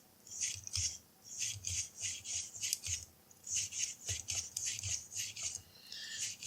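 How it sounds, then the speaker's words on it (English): A brush scrubs back and forth inside the five chambers of a Taurus revolver cylinder, giving quick, close, rhythmic rasping strokes in short bursts with brief pauses between them. "Just give these a quick scrub."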